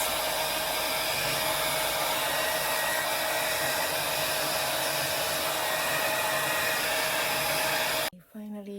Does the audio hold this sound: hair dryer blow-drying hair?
yes